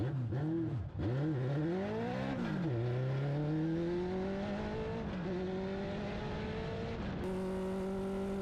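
A race car accelerates on a cold track during a warm-up lap, its engine revving up through several gears in rising, sweeping pitch, close and loud with no talk.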